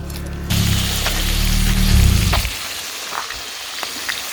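Food sizzling loudly in a pan over a campfire at a mountain campsite, stirred with a rock, a steady close hiss that fades after a couple of seconds into quieter crackling and faint pops.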